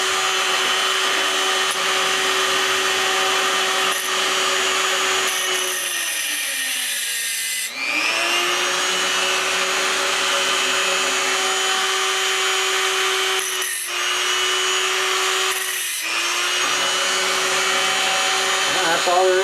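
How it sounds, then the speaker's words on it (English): A Dremel rotary tool fitted with a cutoff wheel cuts into the breech screw of a Crosman air pistol, a steady high-pitched grinding whine held close for the whole stretch, its pitch dipping briefly under load a few times. "You're going to need your Dremel with a cutoff wheel."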